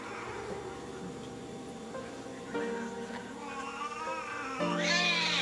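A pet cat meows repeatedly in drawn-out, wavering cries that grow louder and more insistent toward the end, close to the listener with no talking.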